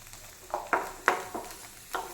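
Green peas sauté with butter and kasuri methi in a pan: a soft, close sizzle broken by scattered light scrapes and stirring clicks.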